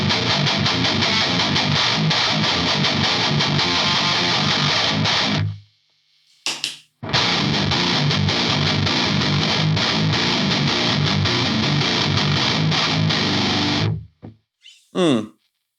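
A 7-string electric guitar runs through a Marshall amp with a Fortin 33 pedal, playing thick, heavily distorted riffs loud and up front, cut by two short gaps of near silence with a few muted stabs.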